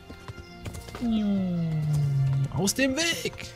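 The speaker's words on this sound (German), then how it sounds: "Als ob das mit so einer Geschwindigkeit durch so einen schmalen Weg reiten könnte." Galloping horse hooves in Kingdom Come: Deliverance, a rhythmic clip-clop partly masked by a loud sustained whinny-like cry and someone shouting over it, close and busy throughout.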